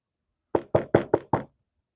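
Five quick knocks on a door, close and crisp in an evenly spaced rhythm, with silence before and after.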